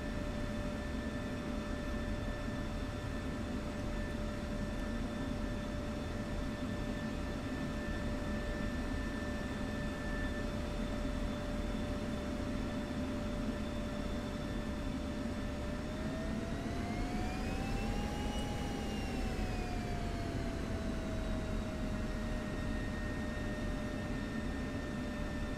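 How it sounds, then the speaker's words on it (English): An F-16 jet engine whines steadily while taxiing to the runway in the DCS flight simulator, a constant close turbine roar with a tonal whistle that rises and falls briefly as the throttle shifts. "So we're just taxiing out to the main runway now."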